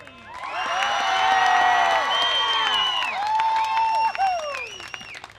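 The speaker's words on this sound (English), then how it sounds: "Let's hear it for one last round of applause for your Oskaloosa Bears." At a state softball championship game, the crowd cheers and claps for the Oskaloosa Bears team, a swelling roar of whoops, shouts and high cheering voices over applause that fades toward the end.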